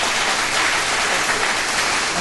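A short burst of canned applause sound effect on a morning show, a dense, even wash of clapping filling the whole moment without voices.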